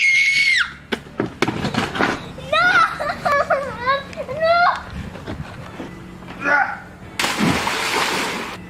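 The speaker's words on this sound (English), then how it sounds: "The next kid that screams within 5 meters of me is going to drown." Children playing and screaming near water in a busy outdoor setting, with shrill overlapping shrieks, bursts of kid chatter and a loud splash near the end, all close by.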